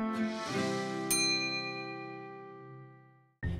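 A bright notification bell rings out in a single clear ding with a long shimmering decay, a second strike cutting in near the start, then a fresh hit at the very end, heard alone.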